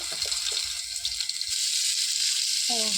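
Pointed gourd (potol) frying in a pan gives a soft, steady sizzle throughout, faint and close, with a few light clinks early on.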